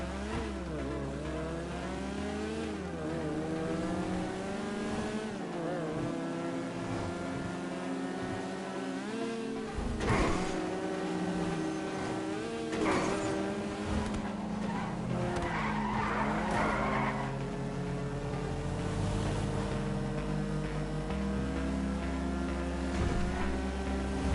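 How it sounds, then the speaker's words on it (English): A car in the video game Grand Theft Auto Online skids and squeals its tires while the engine revs and roars, loud and close, with repeated slides and accelerations and no talking. "We driving in GTA."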